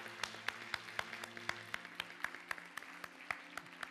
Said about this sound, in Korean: 우리 격려의 박수 한번 하도록 하겠습니다.